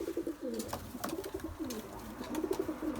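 Young fantail pigeons in a nest box give repeated soft, low cooing calls in a steady rolling rhythm, close and fairly quiet, with no talk over them.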